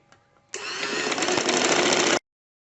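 A sewing machine stitching a kurta sleeve runs in one close, loud, continuous whirring burst of rapid stitches lasting under two seconds, then stops abruptly into silence.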